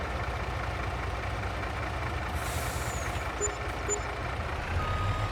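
A truck backing up in the Farming Simulator 22 video game, with a steady engine rumble underneath intermittent high reversing beeps and a brief air-brake hiss, all game sound without talk.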